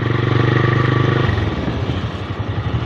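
Motorcycle engine running steadily while riding through a tea garden, a close, continuous mid-pitched drone with a rhythmic throb that roughens and fluctuates toward the end.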